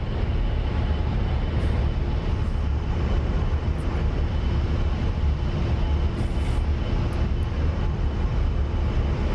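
A-10 attack jet in the DCS combat flight simulator, heard as a steady, loud engine roar and broadband rumble that holds unbroken throughout, with a few faint high-pitched blips on top.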